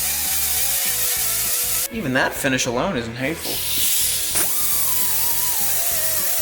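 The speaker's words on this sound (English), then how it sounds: "I'm gonna use this little roll lock wheel to knock all the coating off" A small roll lock wheel on a rotary tool grinds and rasps against a scratch-built car interior part in steady passes, knocking off coating, while someone talks briefly over the noise.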